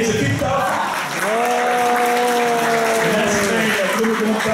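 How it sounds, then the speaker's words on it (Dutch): A crowd applauds at a summer party reception in Ertvelde, with loud, dense clapping running throughout and a sustained tonal voice or whistle rising over it midway. "Voilà, een applaus voor deze pizza."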